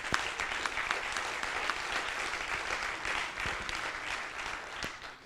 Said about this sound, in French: Vous pouvez déjà applaudir.